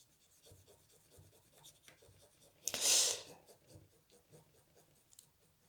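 A cotton swab rubs against paint, a faint scratchy scrubbing that swells into one loud, close rasping burst lasting about half a second, with quiet background noise around it.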